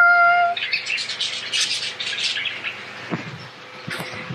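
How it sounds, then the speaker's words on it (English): Pet budgies chirping and squawking up close, a busy run of bright, overlapping tweets and short calls with a few lower knocks toward the end, no talking. "Let's take a look at the budgies."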